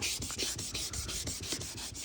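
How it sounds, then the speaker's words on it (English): Rhythmic rasping strokes of 1000-grit sandpaper wet sanding a car headlight to remove old tint, back and forth at a steady pace, close and continuous. "So I'm just gonna keep wet sanding this until it's completely smooth."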